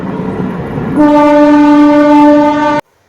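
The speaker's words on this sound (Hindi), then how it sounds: "मेरे पीछे ट्रेन जा रही है।" A train runs close by behind a woman outside, its horn blaring loud and steady with strong tones for nearly two seconds over rumbling wheels before cutting off abruptly.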